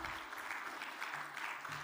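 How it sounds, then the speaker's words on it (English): A church congregation at its annual meeting applauds, a dense, faint wash of clapping hands that stays even and continuous from start to finish. "I'd like to give a huge round of applause and thank you for all"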